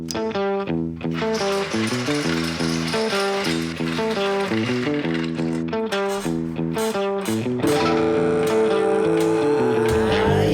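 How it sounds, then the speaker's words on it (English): Car jack being cranked under a MK5 Jetta 2.5L, a loud, close series of rapid rhythmic ratcheting clicks that repeats steadily for about ten seconds, with no talk. "All right, I'm gonna jack it up real quick"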